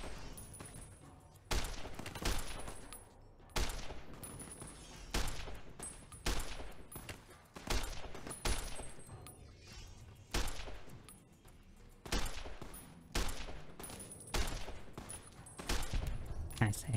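Repeated bursts of gunfire in Fallout New Vegas, sharp shots landing roughly every second or two in a steady rhythm, fairly quiet overall, with a person talking faintly in between.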